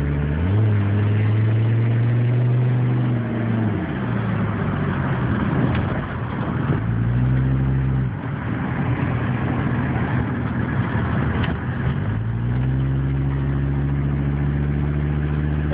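A 1984 Mercedes-Benz 300D Turbo diesel car drives along with a loud, steady engine drone throughout, its pitch rising and falling with gear changes and shifts in speed, and no voices are heard.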